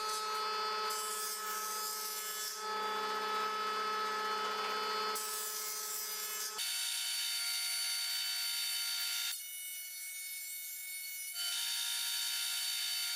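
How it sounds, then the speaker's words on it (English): A combination jointer planer machine runs while it planes a wood board. Its steady, loud whining drone shifts pitch and tone as the cut changes, with no talking. "I used my jointer planer combination to get the wood straightened and down to size"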